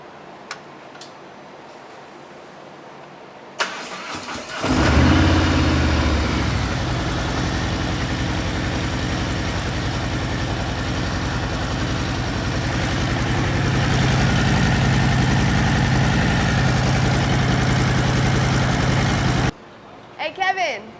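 A motorcycle engine, fresh from a full fluid change with fuel system cleaner, starts after a few quiet seconds and idles steadily and close for about fifteen seconds before shutting off.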